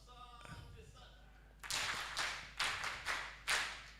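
A few people clap in four or five loud, separate bursts, close by, following some brief indistinct murmuring.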